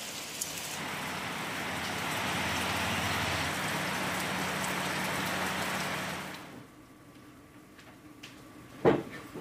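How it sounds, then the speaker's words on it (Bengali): Heavy, continuous rain pours down across the Dooars region of North Bengal as a dense, steady wash that drops abruptly to a quieter patter, followed by one sharp knock near the end. "ডুয়ার্সে লাগাতার বৃষ্টি, রাত থেকে লাগাতার বৃষ্টি"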